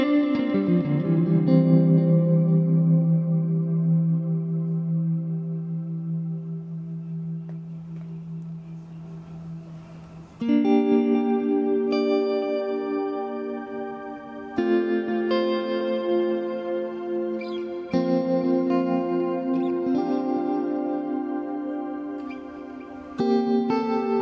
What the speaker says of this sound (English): and we got this new shimmer reverb